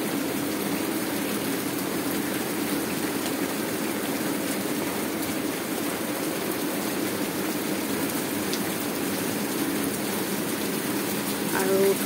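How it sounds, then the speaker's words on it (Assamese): Heavy rain falls steadily in Assam, a constant broadband hiss of drops on surfaces and running water that holds at an even loudness throughout, with speech likely underneath. "এতিয়া বৰষুণটো কমা নাই।"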